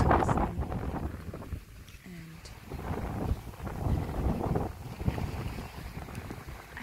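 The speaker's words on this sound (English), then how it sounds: "Sometimes like just listening to the wind and just enjoying this whole stuff" Wind buffets the microphone steadily beside the IJsselmeer lake near Medemblik, rushing and gusting throughout, with someone talking over it.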